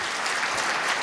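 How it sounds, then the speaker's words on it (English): A large audience at an agricultural innovation conference claps hard with open hands, a dense, loud, continuous wash of applause with no talking over it. "we'll clap a little louder, make a lot of sound by clapping with your hands"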